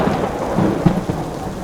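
A Hurricane Milton thunderstorm on Florida's west coast: a steady, dense wash of rain noise with low rumbling thunder swelling beneath it, all close and continuous, with no voices.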